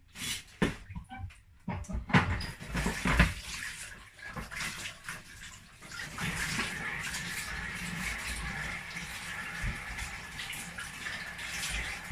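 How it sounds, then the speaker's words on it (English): Tap water running while green plantain is washed in a kitchen: irregular splashes and clunks at first, then a steady hiss of flowing water that carries on to the end. "I'm going to wash my green plantain."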